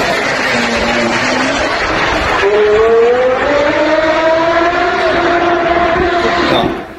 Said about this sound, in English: that car does sound pretty good. You know, the V10 and the Carrera, something very special